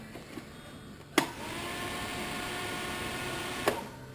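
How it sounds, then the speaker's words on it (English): A 4-inch Spal electric fan on the oil cooler of a Yamaha Warrior 350 ATV switches on with a click and runs as a steady whirring hum, with another click near the end. "It's a 4-inch spal fan."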